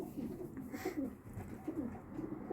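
Pigeons coo softly in a loft, a series of low repeated throaty calls close by, fairly quiet and without talk.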